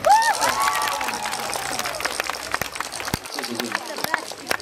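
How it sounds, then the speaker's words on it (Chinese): A live concert audience in Taitung claps and cheers, a dense wash of applause with whoops filling the space, while a voice speaks over it at the start. "给自己一个掌声好不好？"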